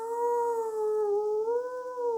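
A single voice imitates a pack of dogs howling at night, a steady wavering howl with rising and falling pitch held continuously and fairly loud, with no other sounds.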